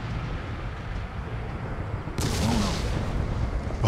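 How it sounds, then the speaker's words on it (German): Gunfire in the horror video game Call of Cthulhu: Dark Corners of the Earth, a sudden burst of loud, broadband shots cutting into a dull rumbling ambience partway through, with no talk over it. "Gott sei Dank, dahinter kamen Schüsse her."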